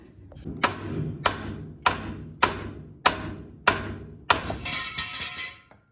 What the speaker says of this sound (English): now we're going to take a hammer to this and see if we can just get it to pop out